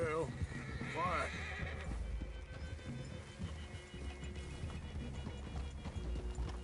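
Horses whinny and neigh in the Red Dead Redemption 2 video game, with a couple of shrill calls at the start over steady hoofbeats and game ambience, while voices talk.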